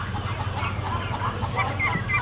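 Chickens at an Amish animal auction, alongside hatching eggs, lace reds and crested ducks, cluck in a busy, continuous barnyard din with other fowl chattering close by.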